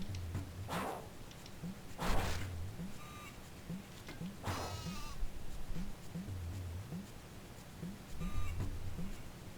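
Sheep bleat repeatedly in short calls in the video game Tak 3 on Nintendo DS, over a steady background of game sounds and a rhythmic low thumping, fairly quiet overall.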